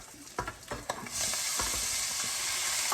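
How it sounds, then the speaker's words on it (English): Corn drops into hot salt pork fat with a few soft thuds, then a loud, steady sizzle of frying takes over and continues without talk. "we're going to let this corn fry a little bit"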